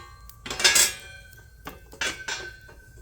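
Metal camping cookware clanks down onto a campfire grate in two quick bursts of close, bright clinking, with quiet crackle between them. No one speaks.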